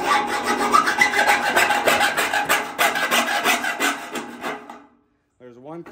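A square gutter downspout is cut with a hand saw, a loud close rasping stroke repeated rhythmically for about four seconds before stopping, with a brief voice at the end.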